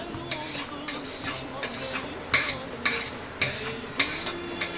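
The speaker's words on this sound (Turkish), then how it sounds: "Karıştıralım, pürtü olmasın." Spoon stirring a thickening milk pudding mixture in a pot, with rhythmic scraping strokes and light clinks against the metal roughly every half second, close and moderately quiet.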